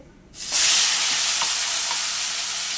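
Crabs hit hot oil with turmeric in a wok with a sudden loud sizzle that starts sharply and keeps a steady, bright frying hiss throughout.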